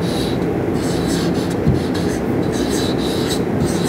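A pen or pencil writes a word by hand, producing a close scratchy rasp of short strokes in a steady run against a noisy background.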